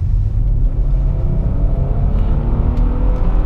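A Nissan Murano accelerating hard from about 40 km/h, heard from inside the cabin as a steady, loud low engine and road rumble with a slowly rising tone, no voices.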